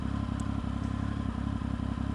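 Triumph Speed Triple motorcycle on the move, a steady loud engine drone with low pulsing rumble and rattly clatter continuing without a break, close to the rider and with no voices.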